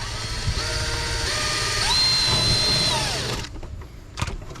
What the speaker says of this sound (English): Let's go for our second drill hole